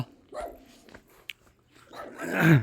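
A dog gives a few short, close barks with gaps between them, the last one louder and more drawn out.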